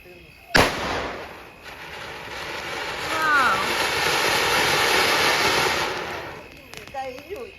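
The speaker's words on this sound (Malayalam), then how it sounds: "വിച്ചുവിന് പടക്ക പൊട്ടിക്കാണ്ടായിരുന്നു തീർന്നോ" A sudden loud bang followed by a sustained crackling, hissing roar of bursting fireworks, with whistling streaks and a few fainter pops near the end.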